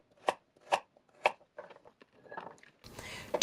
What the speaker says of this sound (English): I'm also going to need 3 medium carrots, peeled and then cut into bite-sized pieces